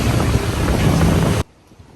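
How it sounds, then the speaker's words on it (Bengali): Waves breaking at Tawaen Beach on Coral Island, a loud, wind-buffeted wash of surf filling most of the moment before cutting off abruptly into near silence. "সুন্দর পানির ঢেউয়ের আওয়াজ"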